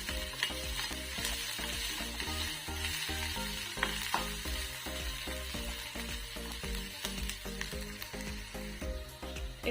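Ginger and garlic frying together in a pan give a steady, close sizzle that runs through the whole stretch, with music playing underneath.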